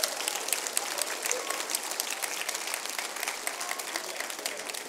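A church congregation claps steadily, a dense, even wash of applause that holds from start to finish with no voices over it.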